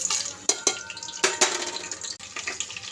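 Cumin and whole spices hit hot oil for a tempering, giving sharp crackling pops and clinks of a spoon against the pan, close and fairly quiet, with no talk.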